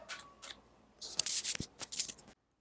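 Tarot cards being shuffled by hand, giving soft papery riffles and rubs in short bursts and then a denser run of shuffling, close and fairly quiet, with no talking.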